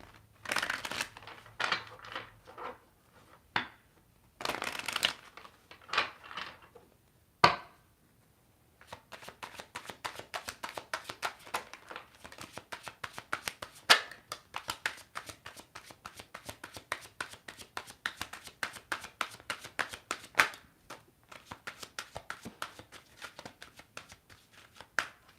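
Cards shuffled by hand for a pick-a-card reading, heard close and dry as repeated riffles and rapid dense flutters, with short pauses between bursts.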